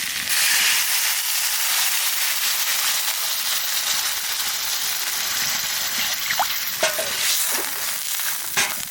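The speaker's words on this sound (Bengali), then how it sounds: "আলু কপি ভালোভাবে ভাজে নিতে আনে জল দিয়ে দেবো।" Potatoes and kohlrabi fry in a pan with a loud, steady sizzle, and a few sharp stirring scrapes and clinks come near the end.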